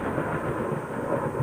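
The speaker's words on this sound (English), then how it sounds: "Why does it have to be raining?" Steady rain with low thunder rumbling through it in the horror video game Layers of Fear, a continuous, fairly loud storm bed with no voices.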